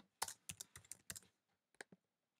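Someone types on a computer keyboard in a quiet room, with a quick burst of close key clicks, a short pause, then a few more taps.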